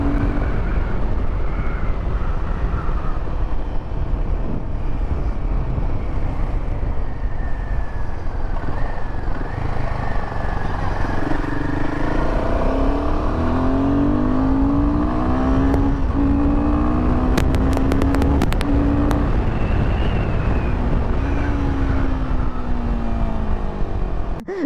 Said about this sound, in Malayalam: നമ്മളിപ്പോൾ വണ്ടി ഓടിച്ചപ്പോൾ കേട്ടില്ലേ ഒരു എന്താ പറയുക എയർ ഫിൽറ്ററിൻ്റെ ആ ഒരു കീറുന്ന ശബ്ദം